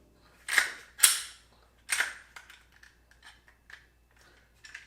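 A Glock 43 pistol being safety checked: a few sharp metallic clacks of the slide being racked close up, followed by lighter scattered clicks and handling taps in a quiet room.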